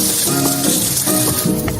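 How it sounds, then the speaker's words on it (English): Sausages sizzle and crackle in a pan, a steady bright hiss with faint pops, heard up close and fairly loud with no talk over it. "That's the sound of our son cooking sausages"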